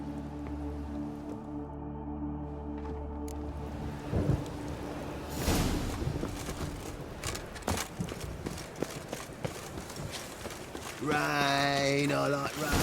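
In The Witcher 3: Wild Hunt, steady rain patters on surfaces while thunder rumbles and cracks, with a crackling sharp burst midway and a character's brief humming voice near the end.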